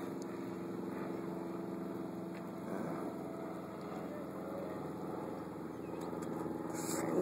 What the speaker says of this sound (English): There's somebody in a motorboat.